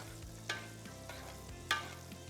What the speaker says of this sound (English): So we're just gonna baste.